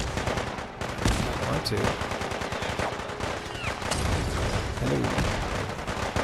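A gunfight with gunners in the video game Fallout 4 with the Sim Settlements 2 mod, with dense, continuous rattling gunfire and shots from several weapons, and a few brief spoken words on top.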